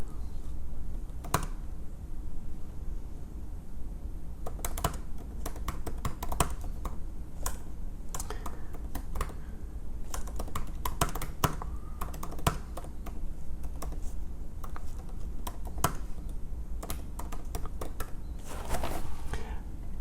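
Fingers tap on a computer keyboard, with bursts of close, crisp keystrokes separated by short pauses over a low background rumble.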